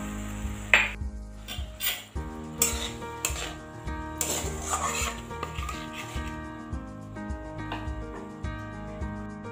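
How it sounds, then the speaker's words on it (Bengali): Spices sautéed with a splash of water in a pan for a koi fish curry, with a spoon scraping and clinking against the metal over a faint sizzle, close and fairly quiet, under background music. "আবার একটু জল দিয়ে মশলাগুলোকে একটু ভালো করে কষিয়ে নেব"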